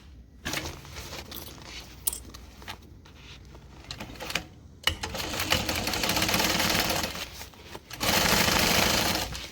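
A sewing machine stitches in bursts, starting and stopping several times before running in longer steady runs, close and fairly loud, with no one speaking.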